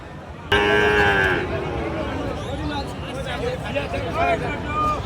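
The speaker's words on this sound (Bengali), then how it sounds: "এই যে পাশে দেখতে পাচ্ছেন অনেক সুন্দর কোয়ালিটি সম্পন্ন গরুগুলো আসলে হাটে আসে" At a busy cattle market, a Sahiwal cow gives one loud, close moo, followed by the hubbub of crowd voices and more distant lowing from other animals.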